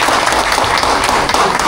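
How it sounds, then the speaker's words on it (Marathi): Party guests applauding at a retirement celebration, a dense, steady wash of many hands clapping close by, continuous and loud throughout without talk. "सगळ्यांनी जोरदार टाळ्या वाजवा।"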